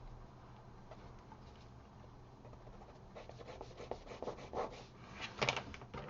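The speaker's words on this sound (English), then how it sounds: "I can use my hard eraser to get a few sharp details" A hard eraser rubs across drawing paper during a gesture drawing session, making soft, close scratchy strokes that grow denser and louder in quick back-and-forth bursts toward the end.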